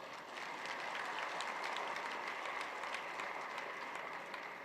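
Applause at a technology conference session on AI, heard at a low level as a steady, distant wash of clapping from a seated audience.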